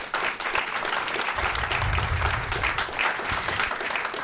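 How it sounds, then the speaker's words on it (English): Sustained applause from a crowd, steady clapping throughout with a dense, even texture and no talking. "Please give them a big round of applause."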